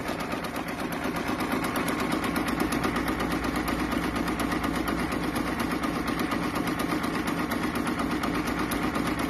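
A Baby Lock Capella embroidery machine stitches a 3D puff design onto a hat, a steady, loud, rapid mechanical chatter that runs evenly throughout with no talking.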